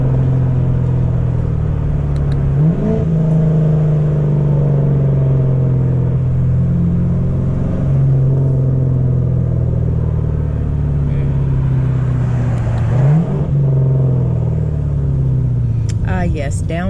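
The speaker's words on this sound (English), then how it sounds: "yes, downshifting instead of braking." A car engine revs and drops as the driver downshifts instead of braking in traffic, with a steady low drone that periodically swells, heard from inside the cabin.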